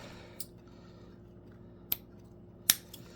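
Scissors snip through ribbon on a bow-making project, three crisp, close cuts spaced apart over a quiet room background.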